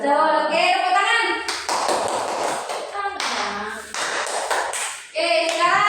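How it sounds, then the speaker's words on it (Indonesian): Children in a classroom break into two bursts of hand clapping, bright and scattered, between stretches of a teacher talking. "Oke, tepuk tangan."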